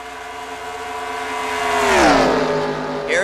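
Stock race cars in a NASCAR-style racing video game roar down a back straightaway, a steady engine drone building to a close pass that bends in pitch around the two-second mark, then trails off.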